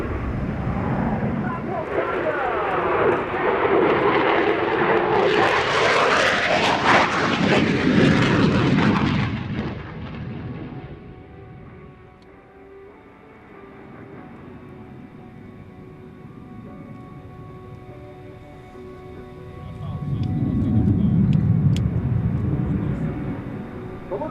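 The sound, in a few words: Raptor jet aircraft performing a slow-motion turn in flight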